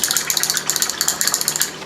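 A paintbrush is rinsed in water with rapid rhythmic swishing and sloshing at close range, steady strokes repeating several times a second.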